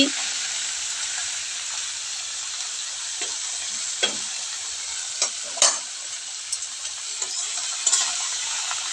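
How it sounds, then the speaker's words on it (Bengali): Chopped bottle gourd pieces fry in a hot pan, a steady broad sizzle with occasional sharper pops and stirring clicks scattered through it, no voices. "এখন আমি এই যে লাউ যে কেটে রেখেছিলাম এই লাউগুলো দিয়ে দিচ্ছি"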